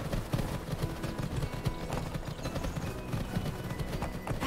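A horse gallops in the video game Horse Club Adventures 2, its hooves drumming in a steady, fast clip-clop rhythm throughout, close and moderately loud with no voice over it.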